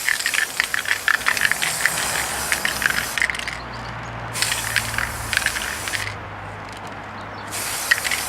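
An airbrush or spray gun hisses in several bursts over the chassis of a Gauge 1 Class 08 model locomotive, close and steady, with faint mechanical rattling and short pauses between passes.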